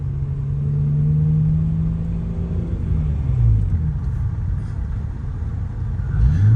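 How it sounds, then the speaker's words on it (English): A Lexus GS300 with a 2JZ engine swapped to a BMW ZF six-speed manual cruises through the gears, its low engine drone rising and dropping with each shift under steady road rumble heard from inside the car. "let me just kind of drive around and show you just cruising, going through gears"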